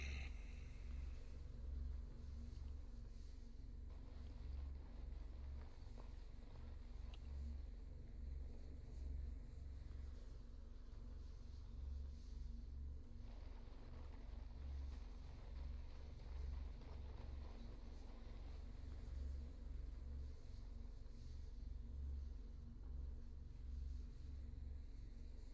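A motorcycle ridden across a planet's surface in Star Citizen gives a steady, fairly loud low engine drone. The drone runs unbroken for the whole stretch, with a faint wind-like hiss on top and no talking.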